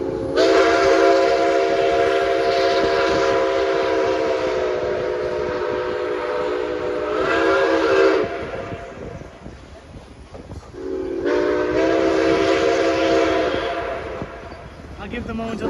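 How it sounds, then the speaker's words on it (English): The steam whistle of Nickel Plate Road locomotive 756 blows in long, loud harmonic blasts near Angola on a fall excursion, pausing briefly before sounding again, over rumbling train noise. "I'll give the moment until the whistle stops blowing."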